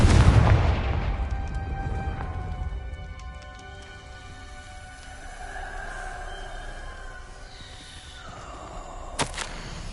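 A Confringo fire spell detonates in the Hogwarts Legacy video game, a loud booming blast at the start that rumbles and fades into a lingering crackling, rain-like ambience, with a sharp crack near the end.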